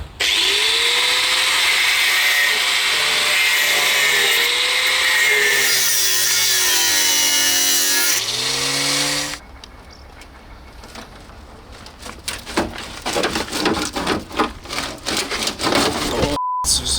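A power tool grinds through rusted, seized bolts underneath a damaged car body in a garage, a loud sustained whine with shifting pitch that cuts off, followed by rough scraping, rattling and clanks close by.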